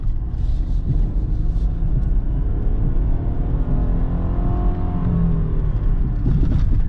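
A 2005 Kia Sportage with a transmission that is not shifting correctly, heard as a steady, loud engine and road drone while driving, with no clear shift points and no speech.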